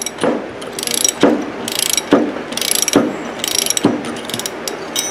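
A special puller is ratcheted to pull a pulley off a GM power steering pump, giving five or six evenly spaced clicking ratchet strokes, each a rapid metallic burst. The sound is close and loud, with no talk.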